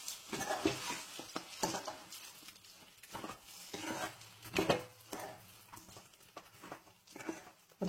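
Goat leg pieces are stirred with chili powder in a pot for a village-style paya curry, heard as quiet, irregular scraping and clinking strokes with a faint sizzle underneath.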